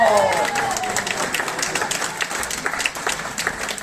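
A crowd at a ceremony marking the 30th anniversary of the El Bisato rowing club applauds steadily and densely, with a brief voice at the start before the clapping carries on alone.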